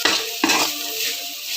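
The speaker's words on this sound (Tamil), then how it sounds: "சரி, ஓகே, இதை நல்லா வதக்கணும்." Drumstick koottu ingredients being sautéed in a pan make a short burst of stirring and sizzling, with two quick scrapes of a utensil close by and no voices.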